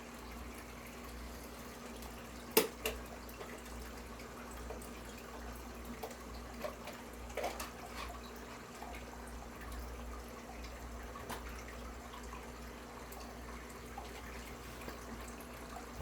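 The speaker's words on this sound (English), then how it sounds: "I slowly let water in here from the tank" Water from an aquarium tank runs and trickles into a fish bag in a steady low gush, with a constant pump hum underneath and a few small clicks and splashes.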